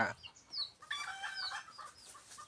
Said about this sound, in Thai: ไก่ตัวเมียจะข่อย